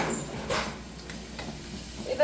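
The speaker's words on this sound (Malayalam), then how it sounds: "ഈ ചെമ്മീനിലേക്ക് നമുക്ക് കുറച്ച് ഉപ്പും കൂടി ഇട്ടിട്ട് ഇളക്കി നമുക്കിതൊന്ന് ഫ്രൈ ചെയ്തെടുക്കാം." Shrimp with salt sizzles in hot oil, Kerala style, a soft continuous frying hiss with a brief louder stir near the start and another at the end.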